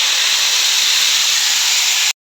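Bitter gourd and potato slices hit hot mustard oil in a pan, giving a loud, steady hiss and sputter that runs unbroken for about two seconds and then cuts off abruptly.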